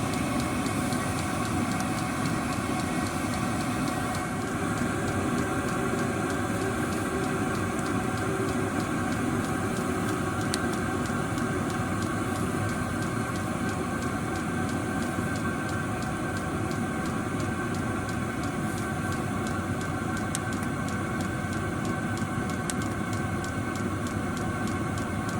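A VEVOR 5 kW diesel parking heater, Webasto style, on its third manual power level, runs with a steady, even whooshing roar and faint fan hum that continues unchanged and close by throughout.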